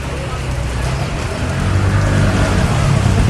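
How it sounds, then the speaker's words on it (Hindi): Heavy rain pours steadily over a mountain town bazaar in Garhwal, Uttarakhand, making a dense, even hiss that swells slightly louder partway through, with a low rumble of traffic underneath. "और बारिश लगातार चल रही है।"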